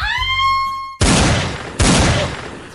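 Two loud, close gunshots boom about a second apart, each a sharp blast followed by a decaying roar, after a short tonal ringing at the start.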